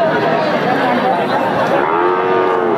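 Heifer calves and young bulls at a Bangladeshi cattle market, long drawn-out moos rising over a constant crowd murmur and chatter.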